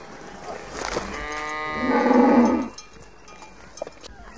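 Nuer cattle lowing in a herding camp, one long harmonic moo that swells and deepens before cutting off, heard close and clear against faint background activity.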